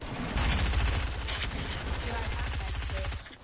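Gray-rarity SMG gunfire in a battle royale game rattles in sustained rapid bursts for several seconds. The shots are steady and fairly loud, mixed with busy game noise until a brief drop near the end.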